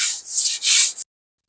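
Hand sanding on the body of a Sargent 414 hand plane: a few quick, close rasping strokes with brief pauses between them, then an abrupt stop into silence.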